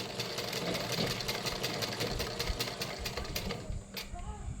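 A sewing machine runs steadily, stitching a blouse lining in a fast, continuous mechanical rattle that slows and stops near the end.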